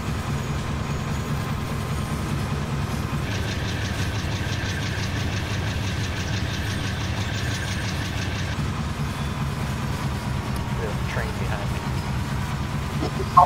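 An old GE diesel locomotive rumbles and rattles continuously, with a steady low engine drone, clanking vibration and a metallic buzzing layer that rises in the middle before settling back, in a cab with a driver talking over it.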